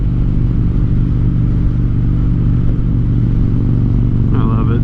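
A Harley-Davidson motorcycle ridden on a winter road past snow-covered fields, its engine a steady loud low drone close by, with a brief voice near the end.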